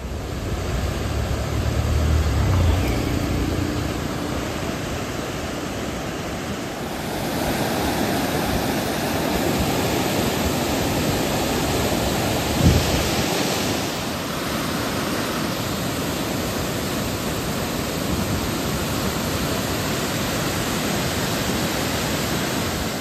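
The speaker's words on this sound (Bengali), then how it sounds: "দেখুন এখানে আরও সুন্দর ঝর্ণা।" A forest waterfall pours in a steady, dense broadband roar, close and continuous with no voices, its level nearly constant apart from a brief soft dip and a small bump midway.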